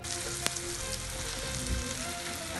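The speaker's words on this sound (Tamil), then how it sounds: "வெங்காயத்தை வாசம் வர பொரிய விட்டா டேஸ்டாகவே நல்லா பொரிய." Onions fry in oil, making a brief, moderately quiet sizzle with one sharp tap near the start.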